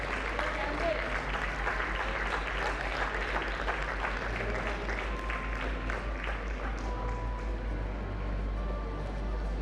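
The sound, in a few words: applause for Project Pulse award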